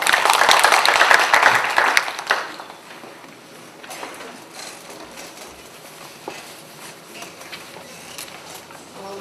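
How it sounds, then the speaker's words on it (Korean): Audience at a Korean panel discussion applauds to welcome a speaker presenting on eco-friendly daycare, a brief burst of clapping that fades after about two seconds into quiet room noise with a few stray sounds. "큰 박수로 환영해 주시기 바랍니다."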